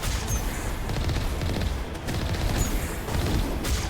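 Geth turrets firing in the Mass Effect video game, a dense, continuous volley of rapid gunfire bursts in a snowy outdoor area, loud and steady with no speech.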